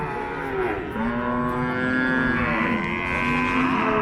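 A cow at a cattle market gives a long, drawn-out moo nearby, loud and steady, lasting several seconds.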